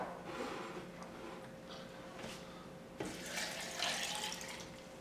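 Water pours steadily into a blender jar already holding hot peppers and cider vinegar, a continuous splashing rush that swells louder near the end, with no talking.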